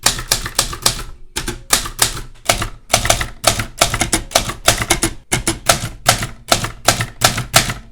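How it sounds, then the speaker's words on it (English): Rapid clacking keystrokes on an old manual typewriter, close and loud, coming in quick bursts with brief pauses, including a short break near the start, with no talk. "But let's put a paper in and actually type it."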